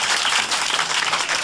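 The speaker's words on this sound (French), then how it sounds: "Applaudissez-la." A studio audience at a French comedy panel show claps steadily and fairly loudly, dense applause with no talk over it.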